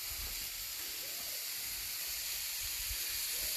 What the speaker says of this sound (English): likes the sound of the sizzle